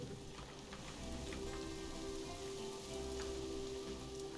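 Rain falls in the zoo-building video game Planet Zoo, a soft, steady patter and hiss heard at low level near a large bear enclosure, with faint crackly drops and no speech.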